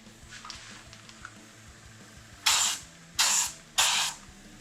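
Three short bursts of pressurized spraying hiss from a paint spray gun test spray in quick succession, after some faint clicking and handling noise.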